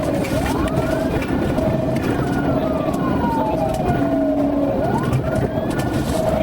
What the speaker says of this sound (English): the trooper activated the lights and siren